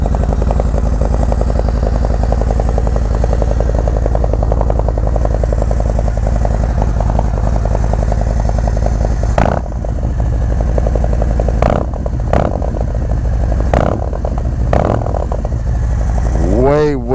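A Harley-Davidson Road Glide motorcycle with a 2-into-1 exhaust idles steadily up close with a deep, throbbing exhaust note, broken by a few sharp clicks and a short rising whine at the end.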